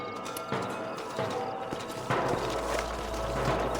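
Horses' hooves clip-clop in a steady walking rhythm in the Red Dead Redemption Western game, fairly close, with a low rumble and ambient game sound rising partway through; no talk over it.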